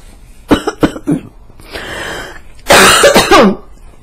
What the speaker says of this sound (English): What's the cough all about?